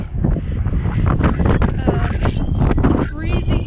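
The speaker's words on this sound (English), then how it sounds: "it's a lot windier today than yesterday" Gusting outdoor wind buffets the microphone in a steady low rumble on a cold day in Flagstaff, heavy and close, with someone talking over it.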